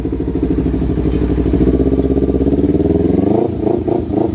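A Kawasaki Ninja XL200 motorcycle engine, with a weak charging fault, runs after a push start with a loud, close, steady idle putter that gives way to a few quick revs near the end.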